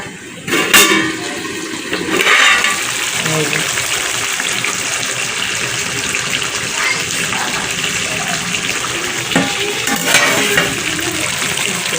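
A vegetarian pointed gourd and potato dish cooking with five-spice and tomato, a steady close sizzle with intermittent scraping stirs and louder bursts near the start and end.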